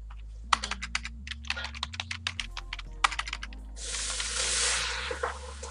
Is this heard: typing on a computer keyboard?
yes